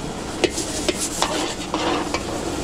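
Garlic and onion sautéing in butter mixed with cooking oil, a steady sizzle and fry with a spatula scraping and stirring the pan in several short strokes, close and fairly loud, no talk.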